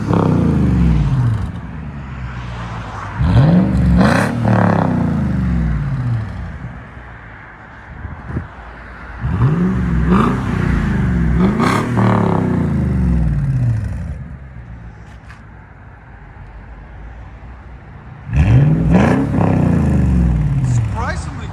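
A straight-piped 2020 Lexus GX 460 with a 4.6L V8 revs repeatedly, loud rising and falling exhaust bursts over a rumbling idle, close by, with people talking over it.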